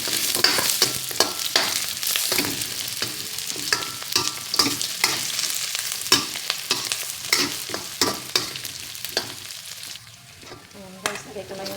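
Pork sizzles and crackles in hot oil for adobo sitaw, loud and close, with repeated sharp scraping stirs of a utensil against the pan; the sizzle eases off near the end.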